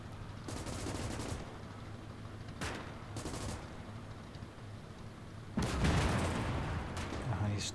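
Distant gunfire and artillery rumble in the World War II strategy game Gates of Hell, with bursts of shots around the start and middle, then a louder, denser barrage near the end.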